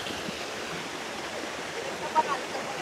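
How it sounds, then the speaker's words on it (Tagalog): Steady rush of the Pinagsabangan river flowing below a multi-tiered waterfall in Bailen, Cavite, an even, continuous wash of water close by with no talk over it. "ang tawag nila sa ilog na to ay Pinagsabangan"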